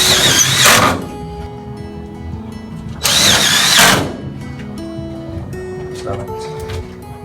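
Power drill driving hooks into a cargo trailer during a conversion build: two loud bursts of whirring, each about a second long and close to the microphone, separated by quieter pauses with faint clatter.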